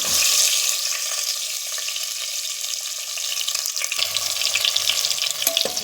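Stuffed brinjal sautéing in a garlic and asafoetida tempering. A continuous close hiss of frying is heard alone, becoming rougher and busier in the last couple of seconds.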